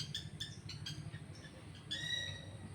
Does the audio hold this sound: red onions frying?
no